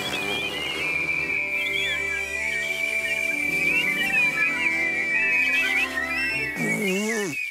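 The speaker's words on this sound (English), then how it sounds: "One, two, three, whistle." A long, wavering high whistle carries for several seconds over a steady musical background, ending with a short rising and falling tone.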